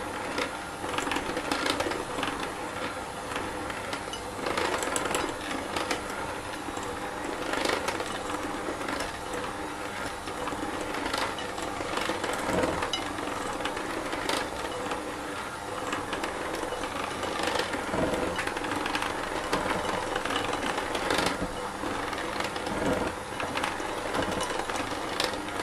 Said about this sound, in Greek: Ανακατεύουμε σε χαμηλή ταχύτητα.